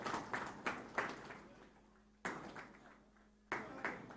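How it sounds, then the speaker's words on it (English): Scattered bursts of audience applause at an airport launch event. Sharp clusters of claps start and fade several times, with quieter gaps between them. The clapping is fairly faint and heard from a distance. "I guess this applause needs to be more louder."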